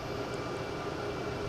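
A Bombardier Challenger 3500 jet departs Boston Logan airport, heard as a steady, broad engine roar at moderate distance for a brief moment.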